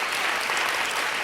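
A TV studio audience claps steadily, a dense, even burst of applause lasting about a second at fairly full volume, with no talking on top.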